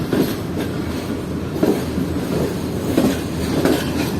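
A train arrives on the Quetta line with a loud, continuous rumble of rolling wheels and a few faint rhythmic clacks over the rails.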